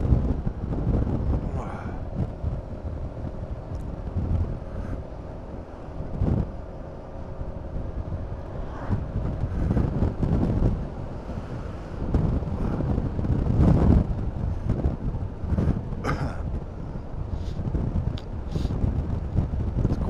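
Gusty wind buffets the microphone of a Honda Forza 350 scooter rider on hilly roads in uneven low rumbles throughout, rising and falling with no voices.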